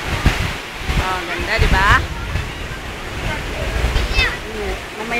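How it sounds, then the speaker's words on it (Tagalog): A waterfall at a crowded viewing spot gives a steady, broad rushing roar, with people talking close by over the constant water noise. "See all the people are looking at the waterfall."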